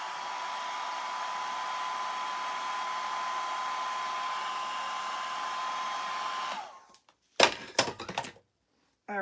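A hair dryer drying a dog's wet paws runs as a steady, loud whir with a constant tone for several seconds, then cuts off, followed by a few brief knocks and rustles.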